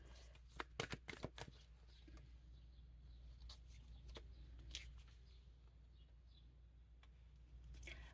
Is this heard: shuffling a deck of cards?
yes